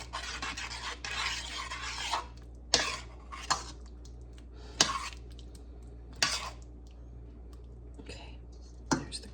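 A block of Japanese curry roux being broken up in a pan, heard as quiet scraping and stirring with several sharp utensil knocks against the pan at uneven intervals.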